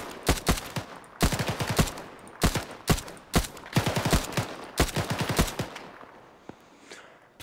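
Rapid bursts of automatic gunfire ring out while shooting at enemies in the military game Arma (Liberation Altis), several sharp volleys in quick succession with short pauses between them, close and loud, tapering off near the end.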